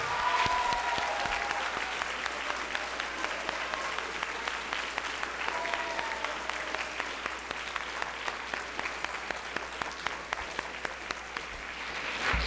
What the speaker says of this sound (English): let's give your parents a huge applause for their awesome support